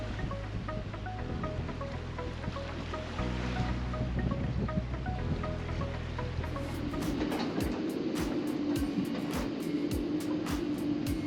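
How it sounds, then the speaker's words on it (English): Strong, constant wind roars across a boat anchorage at Titusville, a steady broadband rush with gusty swells, water and rigging noise underneath, loud throughout. "this wind has been constant"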